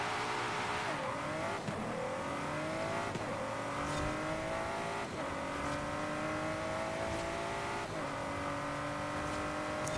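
A 2017 Ford GT races in the video game Forza Horizon 5, its engine revving hard and climbing through repeated gear changes, loud and continuous with no talking.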